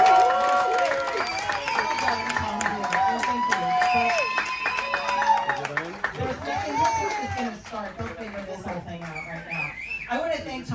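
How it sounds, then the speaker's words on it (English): Aboard a cruise ship, an audience at a leaders' event claps and cheers with whistles while loud voices and music carry over the applause the whole time. "Ladies and gentlemen, put a big round of applause for Virginia Moose Skis!"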